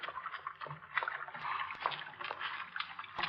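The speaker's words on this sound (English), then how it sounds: "Water." Water splashing and sloshing in a dark sewer within an old-time radio horror drama, a continuous uneven wash of liquid noise with small bursts and splashes, fairly faint and heard alone.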